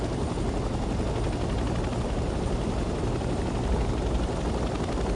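A helicopter flies in the Vietnam-era video game Hell Let Loose, its rotor and engine making a dense, steady, loud roar with rapid blade chop throughout and no voices.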